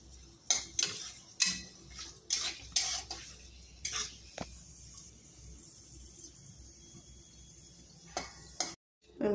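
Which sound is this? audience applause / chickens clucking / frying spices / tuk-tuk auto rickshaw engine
frying spices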